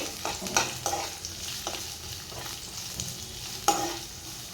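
Sliced onions sauté in hot oil for a prawn and salted-mango curry, a steady broad sizzle with several soft scraping stirs of a spatula, one sharper clatter near the end, close and moderately loud with no talking.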